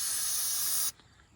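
A steady, close aerosol spray hiss inside a 1936 Ford Coupe rat rod runs for just under a second, then cuts off abruptly, leaving faint room noise.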